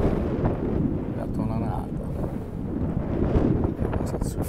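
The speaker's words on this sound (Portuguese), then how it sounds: "Tá ventando, mas não tá um vento frio." Strong wind buffets the microphone at Praia do Castelo beach on the Costa da Caparica, a steady loud rumble throughout while a person talks over it.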